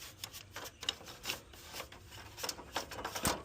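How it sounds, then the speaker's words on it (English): A brush scrubs dust from an air conditioner condenser before servicing, giving quick, close, rasping bristle strokes in an uneven rhythm with no talking. "Before I start it, I'm gonna brush all this dust out of here."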